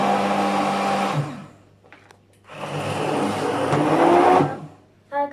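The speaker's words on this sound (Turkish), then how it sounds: "Evet arkadaşlar şimdi blenderdan geçiyoruz." A blender whirs loudly in two bursts while blending lentil crepe batter, stopping briefly in between, with a short clatter at the end.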